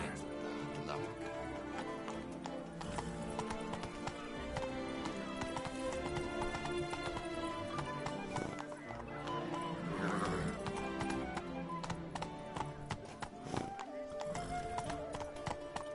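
Roach, a horse in a video game, gallops with rapid clip-clopping hoofbeats and gives a loud neigh, all layered over a busy game music score with a voice speaking briefly.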